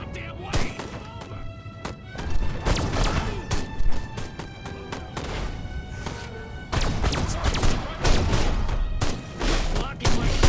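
Gunfire and heavy thuds in the video game Destroy All Humans!, sharp shots and booming impacts crowding together in irregular bursts, loud and close, with voices talking underneath.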